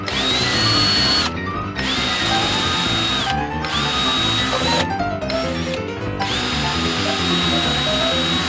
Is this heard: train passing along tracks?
no